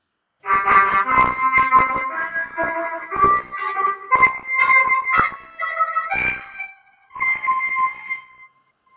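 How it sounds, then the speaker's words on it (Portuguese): A trumpet plays a lively run of short, punchy notes, then a few longer held tones, loud and close with brief gaps between phrases. "Este é o som do trompete."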